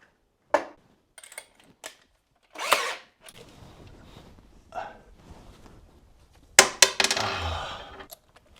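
Screws are driven with a power drill into cupboard wall brackets during a Fuso FG overland truck kitchen build. Several short, sharp whirring bursts come close up, separated by quieter handling clatter, with a longer, louder drill run near the end.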